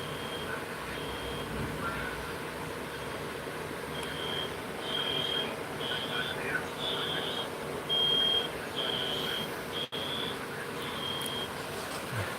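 Repeated electronic beeps at a steady high pitch sound in short bursts over a broad background hum, fairly clear and insistent, from a fire alarm system demo board.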